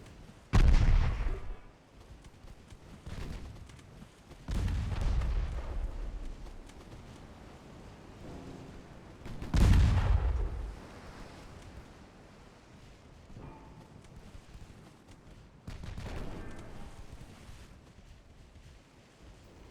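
Naval gunfire in Ultimate Admiral Dreadnoughts aimed at the Yarra: heavy booming gun salvos spaced several seconds apart, each a deep blast with a rolling decay under low ambient rumble.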